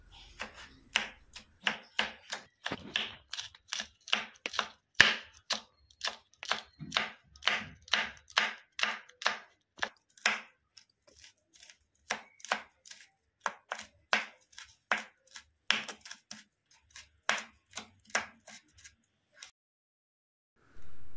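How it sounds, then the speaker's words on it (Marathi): A knife finely chops coriander and green chillies on a board, with quick, close, crisp strikes in uneven bursts and short pauses between runs. "आता आपण वड्यामध्ये घालण्यासाठी कोथिंबीर बारीक करून घ्यायची आहे, एकदम बारीक करायची आहे"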